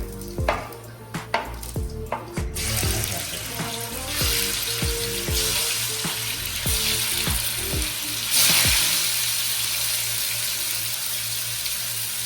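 Chicken fries in a pan of hot oil for chicken fry, giving a dense, continuous sizzle. Several clanking knocks come early as pieces go in, with a louder surge of hissing later and no talking.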